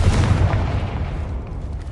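A fire curse explosion in Hogwarts Legacy on PS5 lands as a loud, deep boom that rumbles and fades over about two seconds, with no voices.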